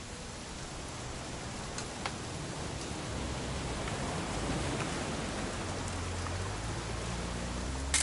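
Steady rain hisses down in a video game, a soft continuous wash of drops with a few faint ticks scattered through it.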